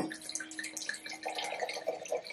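Red wine, an old vine red, is poured into a glass, giving a close, bubbling, gurgling trickle that runs steadily for a couple of seconds without talk.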